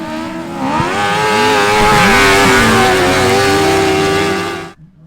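Car engine revving hard on a dyno, a loud close roar climbing in pitch through the rev, holding near the top, then dropping abruptly to near silence.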